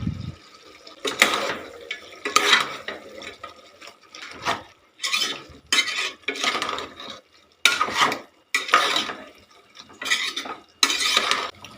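Pallipalayam chicken with coconut and curry leaves is stirred in a pan, giving a run of close, irregular scraping and clattering strokes of a utensil against the metal, separated by brief pauses, with no talking.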